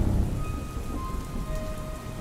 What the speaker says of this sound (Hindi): बारिश की बूंदें टीन की छत पर लगातार टप टप की आवाज कर रही थी